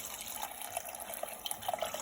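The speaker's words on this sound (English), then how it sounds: "I'm going to add water now." Water poured from a tap or jug into a cooking pot of tomatoes and lentils for dal, a steady close splashing fill with a few brighter droplet accents and no talk.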